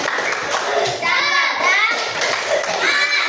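A fifth-grade primary school class does a rhythmic spirit clap in the classroom, quick patterned hand claps mixed with children's chanting voices, close and lively.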